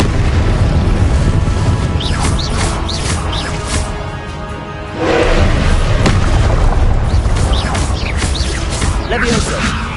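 Loud booming blasts of the Confringo explosive spell cast in Hogwarts Legacy, several bursts in quick succession amid constant battle noise and other spell effects, with a voice speaking over it.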